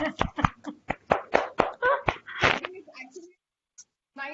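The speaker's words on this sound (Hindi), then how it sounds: "सबसे पहले आप लोगों के लिए मैं तालियां बजाना चाहती हूँ।" At a poetry gathering, close, crisp hand claps ring out in a quick, fairly steady rhythm for about two and a half seconds, followed by a short pause and some faint sounds.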